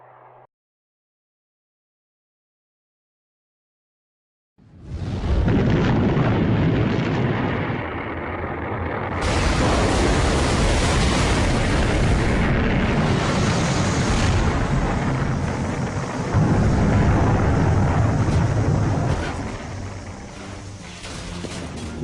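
A Titan missile fails at launch and explodes. After a short silence a loud, sustained roar and rumble builds and stays heavy and continuous for many seconds, then eases slightly toward the end.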